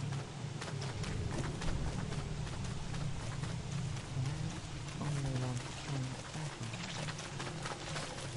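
Steady rain hisses throughout in Don't Starve Together, a dense continuous patter over a low rumble, with faint thumps scattered through and no clear voices.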